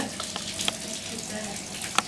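Tap water runs into a plastic tube as it fills, a faint, steady trickle and splash with a brief brighter spatter near the end.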